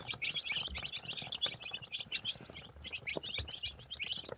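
A brood of about 35 Brahma chicks, five to six days old, peep in a dense, continuous chorus of high chirps at moderate, fairly close distance, with faint shuffling underneath.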